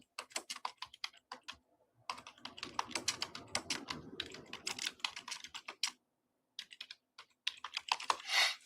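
Keys on a computer keyboard clatter in quick irregular bursts, with a short gap in the middle, heard close and alone as a text prompt is typed in.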